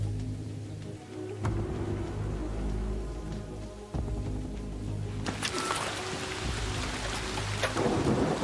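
An electromagnetic storm in a video game brings steady rain with deep thunder rumbles, then a sharp, loud crack of thunder that crashes near the end over the continuing downpour.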